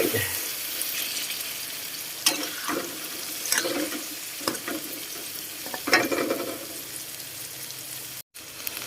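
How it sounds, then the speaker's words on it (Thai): Bitter melon stir-fried with egg and glass noodles in a pan, giving a continuous sizzle broken by repeated scraping and tossing strokes of a spatula, close and fairly loud, with no talking. "ละเราก็จะผัดให้นิ่มๆหน่อย"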